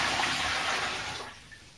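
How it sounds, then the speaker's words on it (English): About four to five litres of warm water poured into a beer brewing kit fermenting vessel, a steady close splashing rush that tapers off quietly near the end. "adding 4 litres, or it says 5 litres roughly, of warm water"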